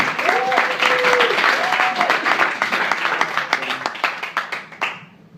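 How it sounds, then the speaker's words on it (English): An audience claps in dense, sustained applause that gradually thins into scattered individual claps before fading out, with a voice briefly audible over the crowd. "Keep that applause going for our second reader"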